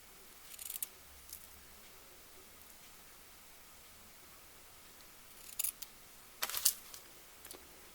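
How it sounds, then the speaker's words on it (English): Scissors trim the ends of a lace bow, with a few quick, close snips, one early and a cluster near the end, over a quiet background hiss. "then I'm going to trim the ends of the bow"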